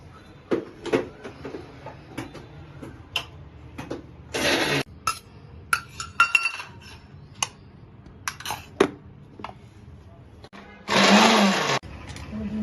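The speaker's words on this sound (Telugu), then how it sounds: "ఒక నాలుగు పచ్చిమిరపకాయలు వేసి దీన్ని కచాబిచ్చా చేస్తాను" Four green chillies are coarsely ground in a kitchen mixer grinder: two short, loud whirring pulses separated by several seconds of clatter and handling knocks.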